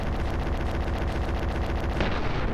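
Needle weapon firing in the side-scrolling mech shooter MechBlaze, a rapid regular burst of sharp shots repeating about ten times a second, loud and close, without voices.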